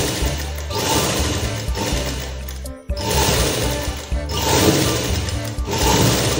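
Sewing machine stitching fabric for an umbrella-pattern frock gown, a loud continuous mechanical whir in two long runs broken by a brief pause near the middle, close up with no talk.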